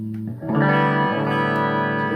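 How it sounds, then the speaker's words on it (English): A sustained guitar chord rings out with a slightly gritty, distorted edge, loud and close, after a brief lower note. "it's introducing a little distortion too"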